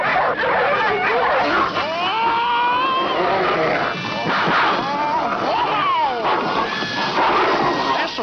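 Cartoon dogs in a 1966 animated series bark and yelp amid a crashing, chaotic commotion. The sound is a dense, continuous mix with characters shouting over it.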